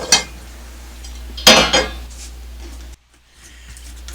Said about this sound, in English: I take a spoon and I'm scraping the meat off of the bones.